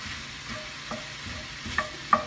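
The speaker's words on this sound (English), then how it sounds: "I'm just gonna try to incorporate this sausage and let this cook down a little" Turkey sausage and vegetables cook in a pan for a frittata, with a soft, steady sizzle under gentle stirring and a couple of sharper utensil clinks near the end.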